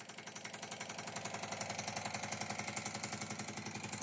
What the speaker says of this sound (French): Là, c'est une bonne fréquence de vibration, ça.